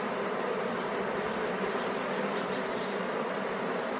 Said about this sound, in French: découvrir le travail incessant des ventileuses. Pour rafraîchir l'intérieur de la ruche